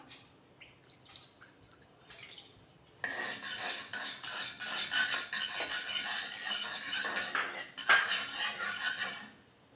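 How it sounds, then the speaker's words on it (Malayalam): Milk is poured into melted ghee in a pan, a hissing, sizzling rush with liquid spatter that starts abruptly partway through and continues loudly, with a brief stronger surge near the end. "ഈ നെയ്യ് ഒന്ന് മെൽട്ടായി വന്നപ്പോൾ നമുക്ക് അതിലേക്ക് പാലൊഴിച്ച് കൊടുക്കാം."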